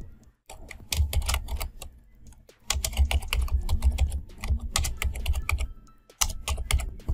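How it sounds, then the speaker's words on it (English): Someone types a comment on a computer keyboard in quick bursts of clicky keystrokes, with short pauses between the flurries. "add a comment here, so you can write any comment, any message, any link"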